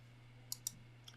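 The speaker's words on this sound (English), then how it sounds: "So now I'm going to click on this and delete it." Two sharp, quick computer mouse clicks close together, with a fainter third tick a moment later, over a steady low electrical hum in a quiet room during a nighttime telescope imaging session.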